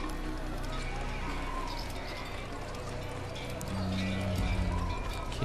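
A horse gallops in the Assassin's Creed video game, with steady rapid hoofbeats under a dense game soundscape and low sustained tones near the end.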